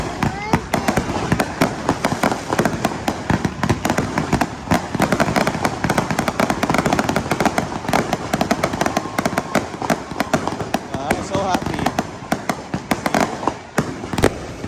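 Dense, continuous crackling and popping bursts of a Fourth of July fireworks display go on throughout, with people talking over the display.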